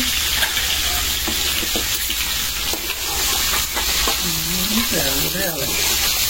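Cauliflower frying in a pan gives a steady, close sizzle that continues throughout, with stirring and a voice speaking near the end.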